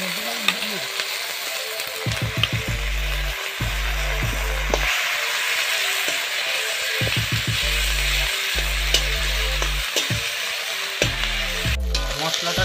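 Ginger, chilli, garlic and onion pastes sizzle in hot oil for a catfish curry, a steady close frying hiss running throughout over low, steady tones.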